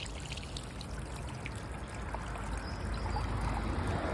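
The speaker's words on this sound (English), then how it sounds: "So we'll get this flushed out with clean water now using the hose pipe." Clean water from a hose pipe pours and gushes through a plate heat exchanger being flushed out, a steady splashing stream that swells slightly toward the end, close and continuous.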